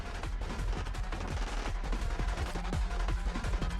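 Dense gunfire in Tower of Fantasy, a continuous loud rattle of rapid shots layered with heavy booms, steady throughout and without speech.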